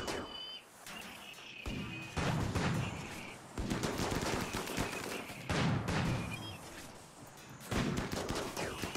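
Colonists in the video game Rimworld exchange fire in a firefight, with repeated bursts of crackling gunshots and rattling volleys coming in waves over several seconds.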